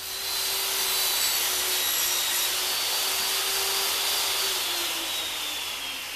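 Saw cutting a taper into a wooden top bar clamped in a tenon jig, a loud continuous whining drone with steady broadband roar, close and uninterrupted with no voices.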